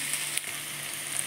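Carrot, beet and pea bhaji with green chillies frying in a pan, giving a steady, close sizzle that stays even throughout with no talking.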